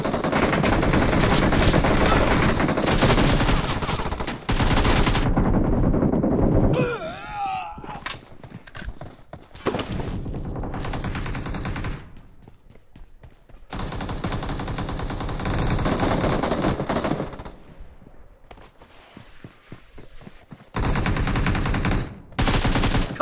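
BGMI video game gunfire: loud bursts of automatic fire crackle in several long volleys, broken by short quiet gaps and a few single shots, with game voices at times.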